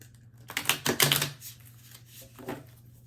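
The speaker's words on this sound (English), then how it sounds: "Shuffle again." A stiff, brand-new witchy tarot deck is shuffled, giving a quick flurry of crisp, papery card riffles and flicks up close, with a softer riffle a moment later.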